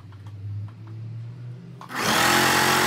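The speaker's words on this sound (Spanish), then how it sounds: "Ahora aprovecho que estoy en la máquina y subo 2 veces 1 centímetro hacia la parte del revés para hacer el ruedo del vestido" A sewing machine stitches a dress hem. Quiet handling and a low hum come first, then a loud, fast, continuous stitching whir starts close by for the last second.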